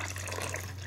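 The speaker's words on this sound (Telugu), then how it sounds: "కొద్దిగా వాటర్ యాడ్ చేసుకుందాం," Water poured into a pot of tamarind fish curry, a steady broadband splashing pour that runs evenly for the whole moment over a low constant hum, with no talk.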